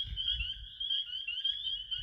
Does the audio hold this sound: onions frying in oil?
no